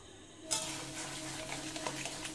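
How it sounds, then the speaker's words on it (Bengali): Chicken frying in plenty of oil is stirred in a pan, a close sizzle that starts abruptly with soft scraping and a few light utensil knocks. "একটু নাড়ব"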